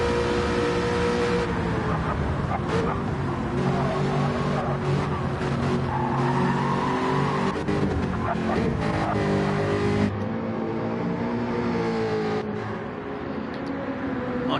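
Aston Martin race cars roar through a racing video game, engines droning loud and steady with tires squealing and skidding throughout, one car sweeping past.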